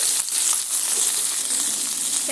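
Eggplant frying in a wok with salt and turmeric, a steady bright sizzle of hot oil that holds constant throughout, close up and with no talking.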